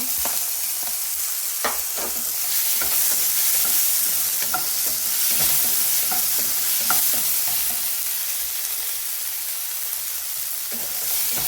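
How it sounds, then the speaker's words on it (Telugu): Chopped tomato being stirred into idly upma in a pan with very little oil, a soft sizzle under repeated close scraping and tapping of a spoon against the pan. "వేసేసుకొని మంచిగా కలిపేసుకోవాలి"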